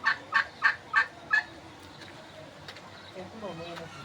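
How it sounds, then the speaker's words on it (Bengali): Large farm turkeys gobble in five quick, loud, close bursts, one after another, then someone talks over quieter background noise. "টাস্কি মুরগি আছে, টাস্কি মুরগি বড় বড়"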